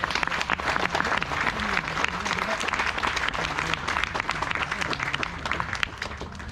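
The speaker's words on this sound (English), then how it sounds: "Please give them a big round of applause." Steady, dense applause from a crowd at a Yoga Day 2021 event at the Indian High Commission in Abuja, Nigeria, continuous and fairly loud throughout with no pauses.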